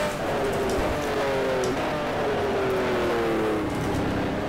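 A Porsche 911 Turbo engine in Stock Car Extreme drones steadily close-up through a lap, its pitch sliding up and down with gear changes and throttle, loud and continuous with no talk.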